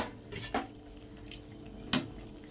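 A lid goes onto a pot of tangra fish curry with cauliflower, giving a few light metallic clinks and taps close by against a soft background hum.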